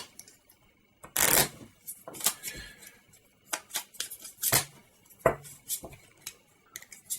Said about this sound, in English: We'll give these a good shuffle.